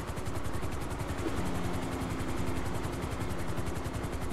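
Helicopter in a video game, a steady rhythmic rotor chop with engine drone, loud and continuous throughout, no talking.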